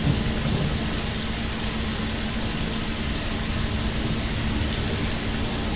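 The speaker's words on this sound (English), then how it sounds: "It's dark, it is rainy" Heavy rain pours with rolling thunder in the video game Fallout London, a dense, loud, continuous wash of noise with a low rumble underneath and no breaks.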